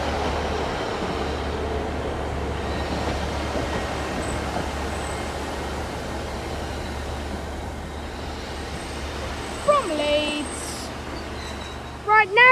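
Train 150201 at Sheffield station gives a steady, loud low rumble throughout, with faint voices and a brief chime-like tone near the end.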